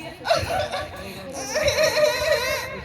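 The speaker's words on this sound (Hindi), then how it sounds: "तभी उसे एक बच्चे की रोने की आवाज आती है" A child cries in a Doraemon cartoon, loud wailing sobs in two bursts with a short break between, close and emotional.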